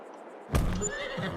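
A horse in the Farming Simulator game gives one clear whinny that rises suddenly and trails off, with faint hoof-like clops nearby and no voices.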